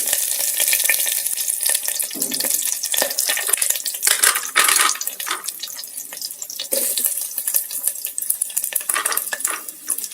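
Cumin, mustard seeds, garlic and green chilies fry in hot oil inside an electric kettle, giving a loud, continuous, crackling sizzle with no voices.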